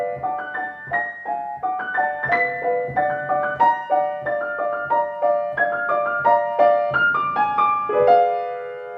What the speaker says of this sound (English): She's dancing in the moonlight. And Wolf wrote some really wonderful kind of elfin ice dancing music